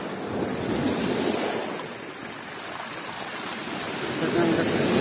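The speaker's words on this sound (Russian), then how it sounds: "И опять течет водичка горная." A mountain stream flows nearby, a broad continuous wash of sound with no voices.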